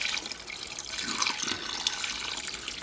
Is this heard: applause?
no